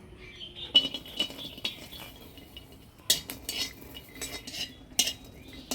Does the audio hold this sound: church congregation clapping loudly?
no